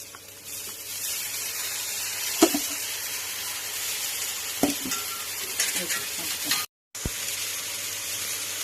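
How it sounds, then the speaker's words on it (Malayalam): Washed rice being stirred into a biryani pot over heat, a steady sizzling bed broken by a few soft scraping knocks of the spoon against the pot, with no talking. "ഇനി അരി നമ്മൾ കഴുകി വെച്ച അരി ഇട്ടിട്ട് ഒന്ന് മിക്സ് ചെയ്യണം കേട്ടോ"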